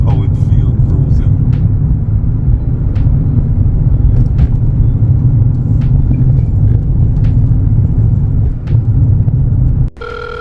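An electric Mini car cruising on the road, a steady low rumble of tyres and cabin noise with faint ticks and knocks, lasting throughout before a brief thump near the end.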